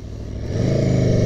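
A superbike motorcycle with stock exhaust revs up, its engine tone rising and thickening into a loud, steady drone close by.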